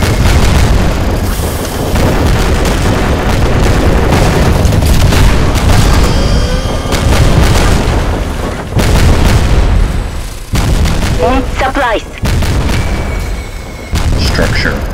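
Structure destruction and explosions in the real-time strategy game Nuclear Dawn on the Corner map: loud, continuous booming blasts and rumbling detonations, with brief gaps, some gunfire-like pops and faint electronic tones mixed in.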